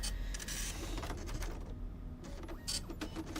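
A printer in the video game Freddy Fazbear's Pizzeria Simulator whirs and clatters through a steady mechanical printing run, fairly loud and alone with no talk over it.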